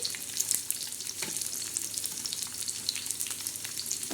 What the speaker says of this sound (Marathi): तव्यामध्ये तेल टाकलं आहे प्रथम आपण त्याच्यामध्ये पहिल्यांदा कांदा टाकलेला आहे